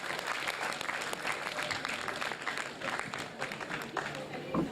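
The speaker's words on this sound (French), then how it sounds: "sous vos applaudissements, s'il vous plaît, mesdames et messieurs." Audience applause at an African excellence awards evening, a steady wash of clapping from a crowd throughout, moderately distant, with a faint voice underneath near the end.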